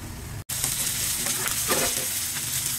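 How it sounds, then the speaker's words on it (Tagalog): Chicken for adobo sautés in a hot pan with a steady close sizzle, briefly cut off near the start, then continuing with soft stirring scrapes and crackles. "Igisa pa lang natin ang konti."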